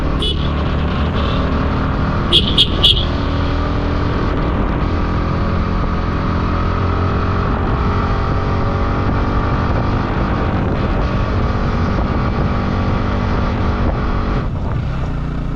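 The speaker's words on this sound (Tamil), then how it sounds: "ஃபுல் டிராஃபிக் நினைக்கிறேன்." Heavy road traffic near Munnar in Kerala, heard from a motorcycle amid cars and trucks: continuous loud engine drone and wind rush, with a few quick horn-like beeps early on.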